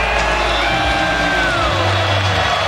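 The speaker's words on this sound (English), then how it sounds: "Largest crowd ever at Vaught Hemingway, roaring for a defensive stop" Huge stadium crowd at Vaught-Hemingway roaring loudly and continuously during a fourth-down play in a Tulane vs. Ole Miss college football playoff game, a dense wall of cheers, whoops and yells.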